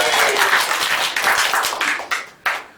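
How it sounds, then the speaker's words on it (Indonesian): Audience applauding at a stand-up comedy show in Palembang, a dense wash of clapping that swells and tapers over a few seconds, with a few louder bursts near the end. "Tepuk tangan lu kan."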